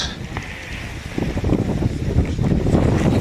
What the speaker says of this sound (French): Le vent souffle toujours à 80 km/h.